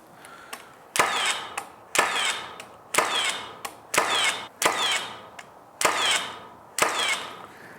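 A Milwaukee 16-gauge finish nailer bump firing nails into wood, with about eight sharp, loud, close pneumatic-style snaps at roughly one-second intervals, each followed by a brief rattling tail and some softer knocks in between.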